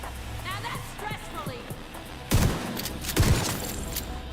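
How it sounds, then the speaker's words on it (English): Two loud shotgun blasts in a video game's realism mode, about a second apart, over background game noise while a player talks. "This shotgun's a goddamn sniper."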